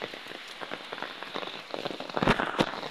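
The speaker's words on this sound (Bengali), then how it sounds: "এই এই দেখেন পানি পড়তা আছে।" Rain falls on a surface outdoors under a cloudy sky, a dense patter of close drops with sharper louder hits building toward the end, no talk.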